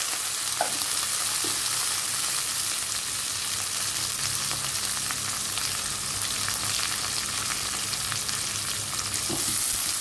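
Onion and green chilies fry in a pan with a steady, dense sizzle and crackle that holds evenly from start to finish, with no voices.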